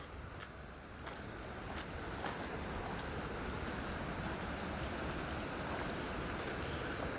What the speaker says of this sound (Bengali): পানির আওয়াজ হচ্ছে খুব।